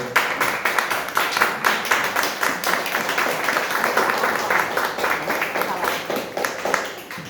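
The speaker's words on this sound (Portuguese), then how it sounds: "Aplaudam a palavra do Senhor." Church congregation applauding during an evening worship service, loud rhythmic clapping with distinct regular beats from many hands, continuing steadily throughout.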